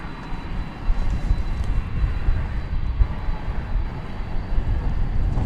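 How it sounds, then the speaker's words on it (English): DHL cargo plane, a 767-300ER, at DFW Airport at night, its engines giving a continuous loud roar with a faint high whine on top, steady and close for several seconds. "I don't know if you can hear the whine"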